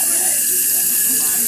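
Warm water runs steadily from a tap into a sink, a close, loud, hissing stream under nearby talk.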